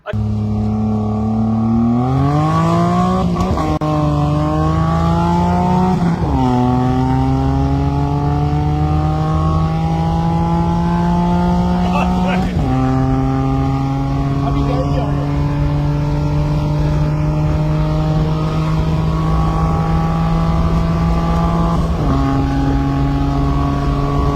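A turbocharged Suzuki Mehran car accelerates hard through several gears, each rising engine whine cut by a shift and climbing again, loud and close for a sustained run.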